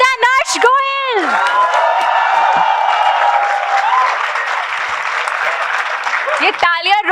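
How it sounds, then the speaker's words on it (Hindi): Indian tech event crowd greets a speaker with loud applause, cheering and whoops, a sustained roar of many clapping hands and shouts, with a voice briefly audible at the start and end. "ये तालियां रुकनी नहीं चाहिए।"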